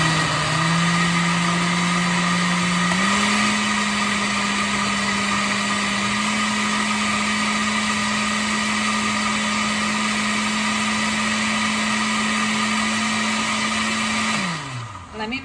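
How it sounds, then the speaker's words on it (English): A kitchen blender whirs steadily while blending homemade mole sauce, a loud continuous motor drone whose pitch steps up slightly early on, then runs unchanged until it winds down and stops at the end. "And now I'm going to blend it again."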